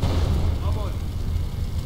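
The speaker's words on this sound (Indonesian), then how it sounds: "Aduh, meledak teman-teman." A factory and house fire in a firefighting simulator game erupts with a sustained, loud rumbling roar, while someone talks over it.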